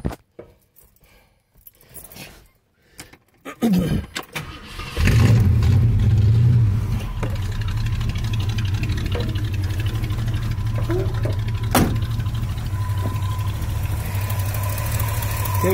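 Keys rattle and an ignition cranks before an old car engine with a leaking radiator catches, revs briefly, and then settles into a steady, close idle.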